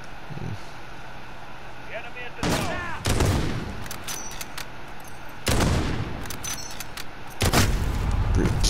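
Gunfire in the Modern Warfare video game, a 1v1 match: several loud sharp bursts of shots break through at intervals over quieter game ambience, with brief chatter between them.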